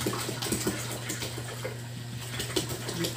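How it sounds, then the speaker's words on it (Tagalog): Water pours steadily into a container, a continuous rushing splash with no voices over it. "nalagay na natin ang 14 liters of water"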